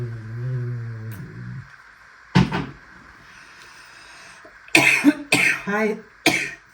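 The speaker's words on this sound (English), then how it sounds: "I'm coughing." Several sharp coughs break out close by after a short hummed tone, coming in a quick cluster of harsh bursts near the end.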